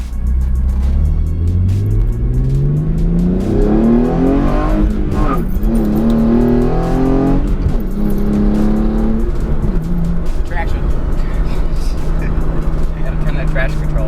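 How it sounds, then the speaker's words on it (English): A 2013 Hyundai Genesis Coupe fitted with an Injen short ram intake accelerates hard, its engine note rising through the gears in loud rising sweeps with brief shift dips, then settling to a steady drone. Voices are heard over it. "we installed the Injen intake on my Genesis, and we'll do a little pull."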